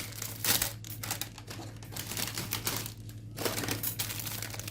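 Gaafar El Omda biscuit packet wrappers crinkle and rustle up close as they are torn open, in a steady run of crisp crackling bursts with a few louder tearing spikes, and no talk.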